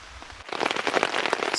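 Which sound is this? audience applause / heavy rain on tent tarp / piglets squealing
heavy rain on tent tarp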